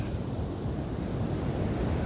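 Ocean waves roll onto Playa Malibu beach in Panama near a river mouth, a steady broadband surf wash mixed with wind buffeting the microphone, with no voices.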